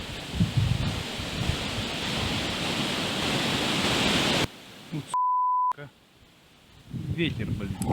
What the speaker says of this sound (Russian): Ветер, блин.